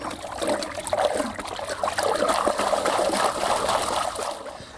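Horn manure is stirred into warm water in a crock for a backyard biodynamic garden, giving a continuous swirling, sloshing liquid sound that stays steady and close throughout, with no speech.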